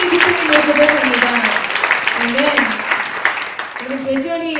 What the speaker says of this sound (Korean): 여러분 우리 그 하나님께 우리 감사와 영광과 찬양의 박수를 드리겠습니다